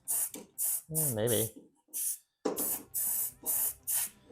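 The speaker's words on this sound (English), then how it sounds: "I might try to spray up here." Aerosol spray can hissing into a crack in the roof of a Volkswagen Beetle under rust repair, in repeated short bursts separated by brief pauses, with a person speaking briefly between bursts.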